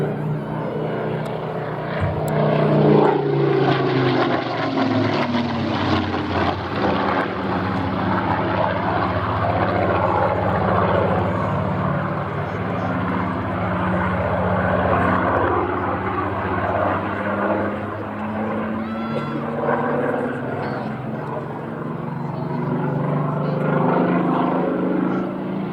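A Spitfire in the unarmed photo reconnaissance role flies past at an air festival, its piston engine a steady, loud drone that swells and holds throughout with shifting pitch.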